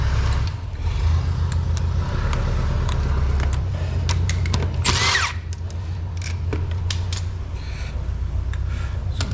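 A power drill or impact driver runs steadily to take bolts off an old electric motor being stripped for scrap copper, with metallic clinks and a sharp rattling burst partway through. The sound is close and loud, with no talking.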